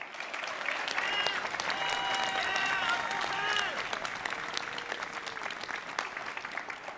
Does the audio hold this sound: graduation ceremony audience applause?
yes